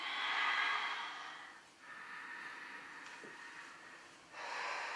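Slow, deep breaths drawn in and let out, soft and close, with a pause between long airy exhales and no talking.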